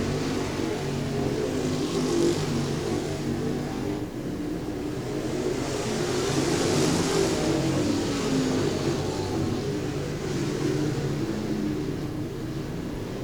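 Race cars circle a dirt raceway at Bubba Raceway Park, their engines a steady, fairly distant roar that swells and fades as the pack passes, with no talk over it.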